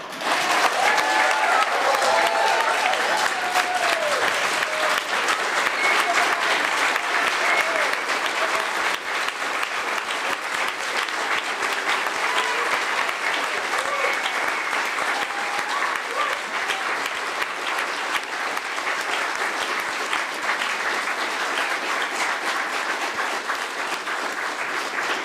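A church congregation applauds warmly for the kids who led a youth-led service, a steady wash of clapping that holds at full strength for the whole stretch with faint voices blended in.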